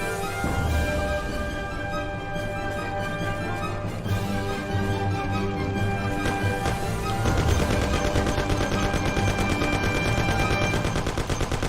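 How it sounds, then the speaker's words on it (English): A Thompson submachine gun in the Mafia video game fires in long, rapid bursts of sharp, loud reports, near and continuous over a steady background rumble. "Take my Thompson. You and Sam shoot them."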